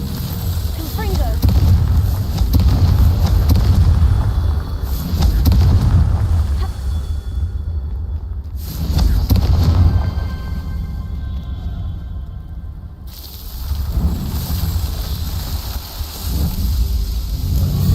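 A Confringo fire spell bursting in Hogwarts Legacy, with loud booming blasts and rumbling roars that come in surges. Game sounds and speech continue alongside them.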